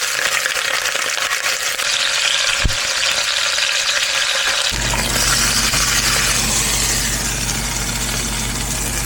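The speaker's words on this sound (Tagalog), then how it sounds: "let's sear our beef." Beef sears in a hot pan for a sour beef soup, a loud continuous hiss that thickens into a denser, rumbling sizzle halfway through, with one sharp tap early on.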